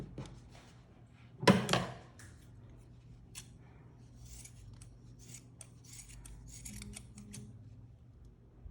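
Scissors snip the yarn fringe ends, one loud close cut followed by a series of quieter, quick snips and rustling of yarn, without talking.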